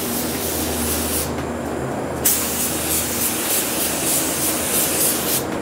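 Spray gun laying a light solvent base coat on a car panel of a Subaru STI, a loud continuous close hiss that dips for a moment between passes, then resumes alone with no talking.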